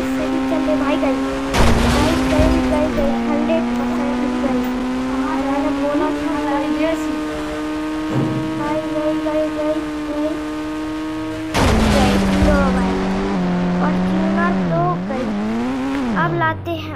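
Engine drone of a Toyota Fortuner Legender driven in the Indian Bike Driving 3D game, a sustained tonal hum that shifts pitch with revving, broken by two loud impact bursts, like ramp landings, with a voice talking throughout.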